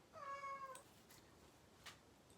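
A house cat meows once, a clear, close, rising-and-falling call, followed by a few faint soft rustles and clicks in a quiet room.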